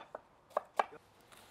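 A knife finely chops half an onion on a board for pleskavica meat, giving three or four crisp, quick taps at close range with no talking.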